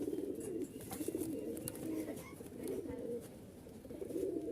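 Giribaz pigeons, a deep red male and female pair, coo in repeated low throaty phrases close to the microphone, with light chirps and rustling behind them.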